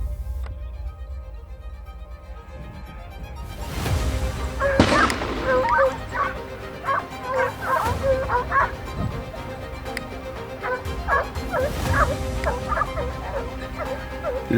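Pack of hunting dogs during a Spanish montería for wild boar and deer, barking and yelping repeatedly in uneven bursts, some near and some farther off, with whimpers mixed in.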